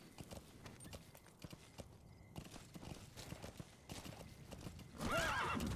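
In the video game Metal Gear Solid V: The Phantom Pain, steady hoofbeats clop along over background noise, then a horse lets out a loud, wavering whinny near the end.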